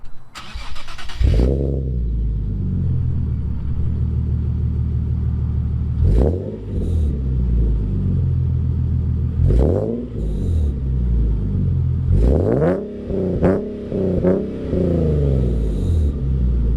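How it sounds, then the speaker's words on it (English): A Nissan 370Z with a Fast Intentions catback exhaust and test pipes starts with a loud crack, settles into a deep, burbling idle, then gives several sharp throttle blips that rise and fall, close and loud with no talking. "I'll give you guys a little sound clip of that now"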